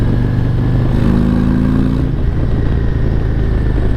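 A 2021 Harley-Davidson Road Glide CVO motorcycle pulls hard in third gear, its engine rumbling loud and steady with rising pitch and wind noise throughout.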